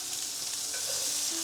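Steak searing in butter in a hot wok, a dense continuous sizzle close up and fairly loud, with a faint tonal whine near the end.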